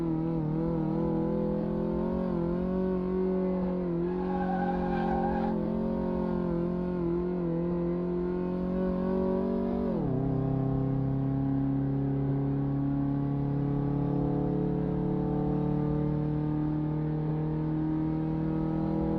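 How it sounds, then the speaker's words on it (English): A Mayen M6 car laps a race track in Car Mechanic Simulator 2018, its engine droning steadily with harmonic whine, dropping sharply at a gear change, then climbing again in a continuous, unbroken run. "It's going to take me 2 minutes to get around this track with this car."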